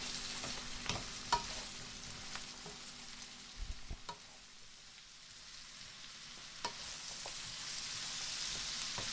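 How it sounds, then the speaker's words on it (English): Carrots, onions and garlic fry in oil in a pan for a red lentil pasta dish, giving a steady, even sizzle with occasional sharp clicks and scrapes from stirring, close and moderately quiet, with no talking. "the vegetables and the carrots and the onions and the garlic have been cooking now for about 2 to 3 minutes"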